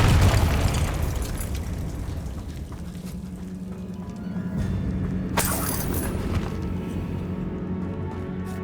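A Confringo spell blast in the video game Hogwarts Legacy, a heavy boom at the start followed by sustained rumbling and a sharp shattering burst midway, loud and continuous, with no talking.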